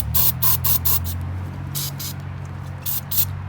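Carb cleaner sprays into a Dynamark 11/36 lawn tractor's carburetor in short hissing bursts of varying length, close by, over a low steady hum.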